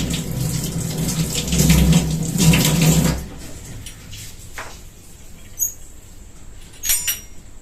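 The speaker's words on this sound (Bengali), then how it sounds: "এই যে এটা একটু জলে একটু মুছে নি" Water runs from a kitchen tap at a sink while something is wiped clean, a loud close gush for about three seconds, then quieter drips, clinks and brief splashes.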